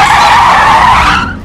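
A car skids hard to a stop, its loud tire screech sustained for over a second and then trailing off, close and alone with no talk.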